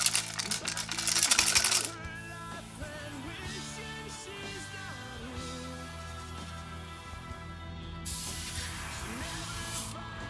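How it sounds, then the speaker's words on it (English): Small metal bearings rattle and shake inside a large 3D-printed crankbait fishing lure, a loud burst of dense metallic clatter at the start, with quieter rattling and a second shaking burst near the end. "These are our bearings to add a little shaker sound."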